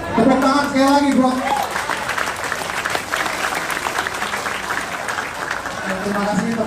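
A crowd at a political campaign event applauds in a dense, sustained roar of clapping, while someone speaks over it at the start and end.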